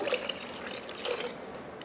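Water saved from rinsing a wet grinder is poured into a bowl of appam batter, giving a short, close trickling splash that runs evenly for about two seconds.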